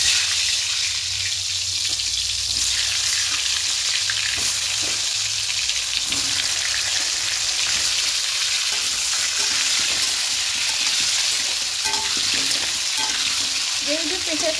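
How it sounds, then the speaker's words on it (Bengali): Potatoes frying in mustard oil in a kadai give a loud, continuous sizzle with occasional stirring scrapes, near and steady throughout, and nobody speaks. "সরষের তেল দিয়েছি, এবার আলুগুলোকে হালকা করে ভেজে নেব।"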